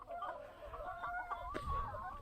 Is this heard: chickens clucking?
yes